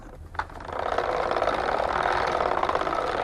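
A rope maker's wheel turns to twist esparto cord, giving a steady whirring mechanical hum that starts after a small knock and runs on evenly, close and fairly loud.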